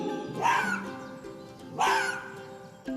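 A fox yips in a short call, two bright yelping bursts about a second apart with a brief third onset at the end, close and fairly loud over a faint background.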